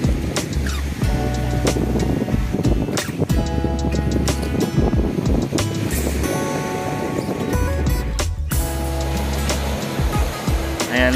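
Waves washing along a seashore at midday, a continuous loud churning roar mixed with wind buffeting on the microphone, and no talking.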